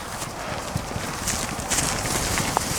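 Hooves clop irregularly as a herd of cattle walks in on a farm, scattered thuds over a steady outdoor background with a few faint calls.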